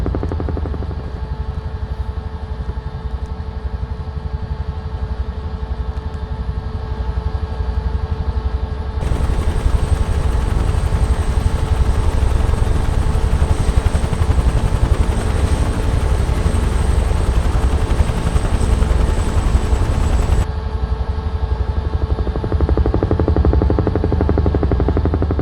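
A UH-1H Huey helicopter on a firefighting mission, heard from the cockpit, roars with a loud, continuous rotor and turbine drone, growing even denser and louder in the middle section before settling back.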